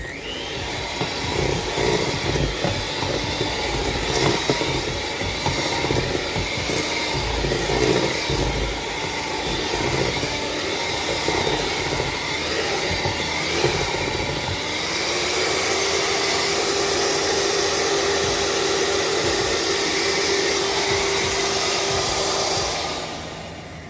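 An electric mixer whirs steadily as it beats pecan praline pound cake batter in a bowl, a loud continuous motor hum with rattling texture that shifts to a smoother, higher drone partway through, running alone without talk.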